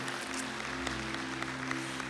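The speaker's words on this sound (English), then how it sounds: "And yes, give them a clap." A church congregation claps to welcome new members, a steady, dense round of applause throughout, recorded quietly and at a distance.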